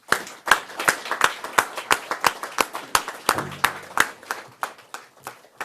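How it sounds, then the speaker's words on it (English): An audience at a meeting of Ontario chiefs and a federal minister claps with distinct separate hand claps, loud and close, thinning slightly toward the end with a faint voice briefly underneath. "I think you all deserve a huge round of applause."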